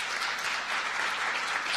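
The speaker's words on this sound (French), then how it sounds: "On peut applaudir à nouveau avant qu'elle quitte la salle" Sustained audience applause fills a French meeting room during a session with farm unions and environmental and consumer groups, a dense steady wash of clapping at moderate level with no talk over it.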